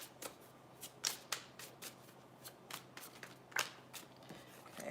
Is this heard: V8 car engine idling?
no